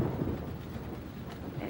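A storm with rain falling and a low, rolling rumble of thunder, heard faintly at a distance as a soft, continuous wash.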